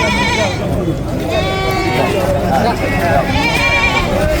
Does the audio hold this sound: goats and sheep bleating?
yes